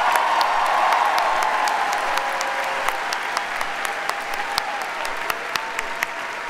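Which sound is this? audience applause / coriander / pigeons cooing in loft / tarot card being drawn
audience applause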